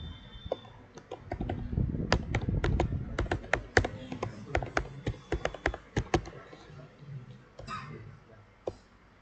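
Typing on a computer keyboard: a quick, irregular run of close, sharp key clicks and taps that gradually thins out toward the end.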